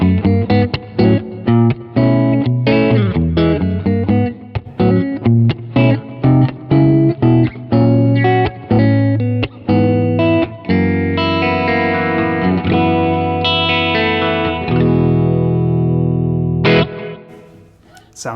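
Telecaster electric guitar on its middle pickup, played through distortion and effects units: a run of loud, choppy strummed chords and single notes with short gaps, then sustained ringing chords fading out near the end.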